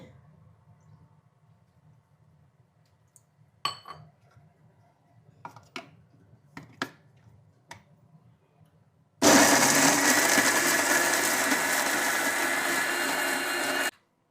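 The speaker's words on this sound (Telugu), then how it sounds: "మిక్సీకి వేసేది అయిపోయింది." A few faint clicks and taps, then a loud mixer grinder roars steadily for about five seconds grinding tamarind chutney with salt and water, before cutting off.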